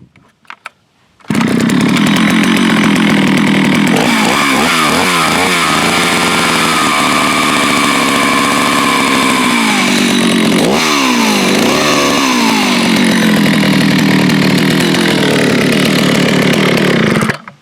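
After a brief pause, a vintage 1970s Jonsered 801 chainsaw fires up and runs loud and close, its two-stroke snarl revving up and down in several bursts before settling into a steady roar until it cuts off.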